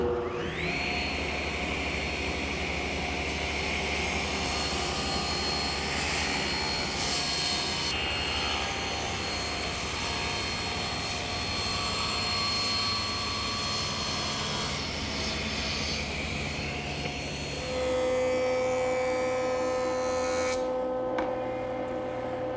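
A table saw with a taper jig rips through wood stock in a long, steady whine that holds for about eighteen seconds before the blade spins down, with no talk.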